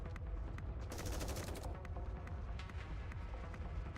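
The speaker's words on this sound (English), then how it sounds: "He's opening fire in the middle of town." Sustained rapid gunfire from mass-produced Nikkes in the Goddess of Victory: Nikke game, a dense continuous fusillade of overlapping shots with sharp bursts throughout, loud and steady from start to finish.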